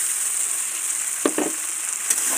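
Fried cauliflower and potatoes tipped into sizzling spice paste, a steady hiss of frying broken by a few quick scraping thuds, close and without talk.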